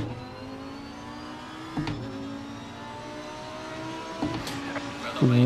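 Racing simulator car engine revving under throttle on a track chicane with Fanatec CSL Elite pedals, a steady mid-pitched drone with harmonic whine and brief throttle blips near 2 and 4 seconds, rising at the end; a voice is faintly present.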